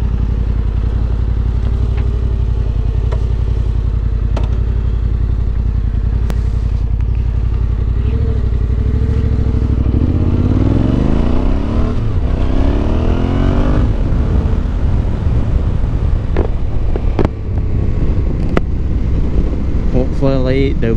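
A Yamaha Tenere 700 rides with its exhaust baffle removed, a loud engine drone with rising and falling pitch as it accelerates and shifts, plus wind rush, and a rider speaking over it.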